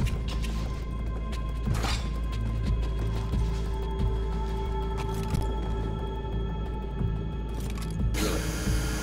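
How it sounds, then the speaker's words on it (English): Drilling into a hydraulic seal in Call of Duty Ghosts, a steady mechanical whir and grinding hum under game ambience, with sharp bursts of noise near the start and end. "Drill here."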